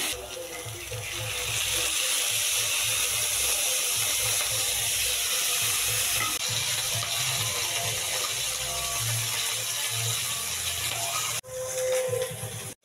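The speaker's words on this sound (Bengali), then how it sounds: "আমি খুব অল্প একটু তেল দিয়ে জাস্ট মাছটা দিয়ে কিছুক্ষণ আমি বেশ ভালো করে নেড়ে নেব" Tengra fish fries in a little oil in a kadai while being stirred. A steady, bright hiss of sizzling runs throughout with rattling, clattery stirring underneath, and the sound changes abruptly near the end.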